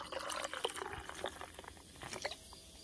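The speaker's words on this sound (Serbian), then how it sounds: "i nalijem penušavim vinom." Sparkling wine is poured into a glass already holding ice and crushed strawberries, giving faint, close fizzing, trickling and small crackling pops throughout.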